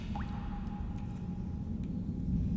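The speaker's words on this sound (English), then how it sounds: "Drip, drip, drip." Water dripping in a video game, a single bright plinking drop over a steady low ambient rumble, with faint further drips behind it.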